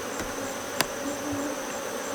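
Honey bees swarming around an open Apimaye hive give a steady, dense buzz with a couple of brief clicks or taps, continuous and moderately quiet, no one talking.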